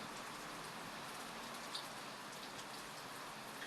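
Heavy rain pours steadily and close by, a dense continuous hiss with scattered drops pattering on a surface throughout.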